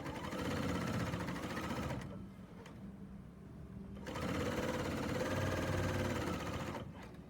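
A serger, or overlocker, stitches binding onto a quilt in two long, loud, steady mechanical runs separated by a brief quieter pause, close up and with no voices.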